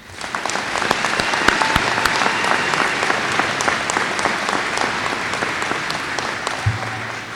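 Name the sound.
applause for magna cum laude graduates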